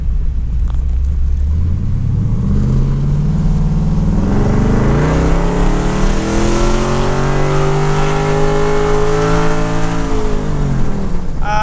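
A car with an LS V8 engine pulls away in drive, its rumbling note climbing steadily in pitch as it accelerates, loud and close throughout with no voices.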